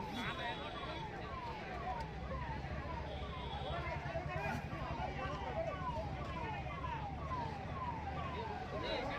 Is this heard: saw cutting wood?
no